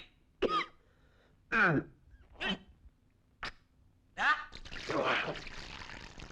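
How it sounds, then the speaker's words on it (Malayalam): A string of harsh, close coughs in separate bursts, ending in a longer rough, noisy stretch. "എല്ലാം കൊടുക്കുന്ന ചുമയാടാ"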